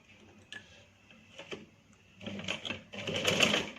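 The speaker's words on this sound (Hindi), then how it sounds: "जोड़ने से पहले आपने उससे पहले एक सिलाई लगा के इस तरह देखिए" A sewing machine runs in short bursts as a single stitch is set before joining pieces, then stitches more steadily, its rapid ticking mechanical rhythm close and moderately loud with no talk.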